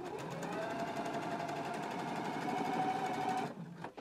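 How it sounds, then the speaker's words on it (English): A sewing machine runs steadily, stitching the side seam of a flap lining at a 5/8-inch seam allowance, a continuous close mechanical whir that stops near the end. "stitch the side seam for the flap lining at a 5/8 of an inch seam allowance."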